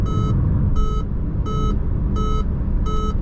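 A Jeep Avenger 2027 Limited's lane-keeping warning sounds five evenly spaced, bright electronic beeps over a steady low hum of road and cabin noise.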